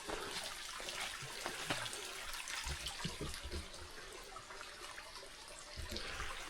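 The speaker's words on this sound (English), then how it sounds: "this is our second little creek crossing today" Water of a small creek flows steadily across a hiking trail crossing on the Appalachian Trail, a continuous close broadband rush and gurgle with no voices.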